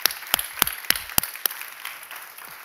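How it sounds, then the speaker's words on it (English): Applause at an HBO diversity series talk, a handful of loud, close claps standing out over a softer spread of audience clapping that tapers off within about three seconds. "Can we give him another round of applause?"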